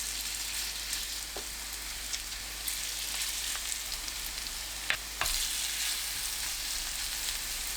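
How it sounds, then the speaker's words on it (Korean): Green onion pancake batter sizzles steadily in hot cooking oil in a pan, a constant quiet crackling hiss with a few sharper pops, no voices. "팬이 예열되면 식용유 두르고 반죽을 납작하게 올려주세요."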